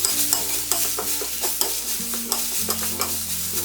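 Sliced onions with turmeric, garam masala and pepper powder are stirred in a pan for a bread masala dosa. Steady, rhythmic scraping strokes repeat over a low, continuous sizzle, close up, with no talking.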